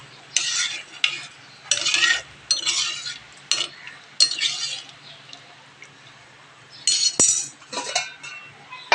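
Mango chutney made with salt, turmeric, a little sugar, mustard and water cooking in a pot, heard as irregular bursts of stirring and utensil scraping with a metallic clink, close and without talk.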